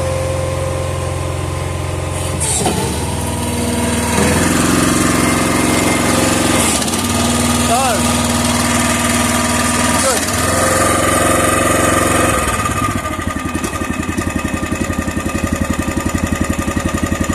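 A small engine runs steadily throughout, a loud mechanical drone with occasional rising revs and clunks close by.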